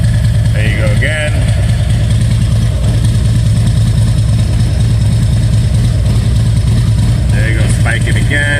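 A motorcycle engine idles steadily with a low, constant rumble throughout, with a few brief chirping radio glitches on top and no speech over it.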